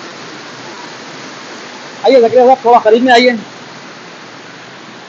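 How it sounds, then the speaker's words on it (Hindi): Hidden waterfall flowing in a steady broadband rush that fills the whole clip, with a voice speaking briefly over it partway through. "ये नजारे, ये पानी झरता हुआ, ये आबशार"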